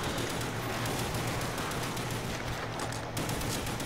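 Sustained gunfire from the zombies mode of a Call of Duty video game, dense and continuous throughout, with layered shots running over a busy game soundscape.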